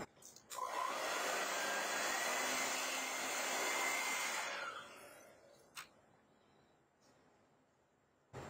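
A hair dryer blows steadily for about four seconds over acrylic paint on canvas, a close, broadband whoosh that then switches off, followed by a few faint knocks.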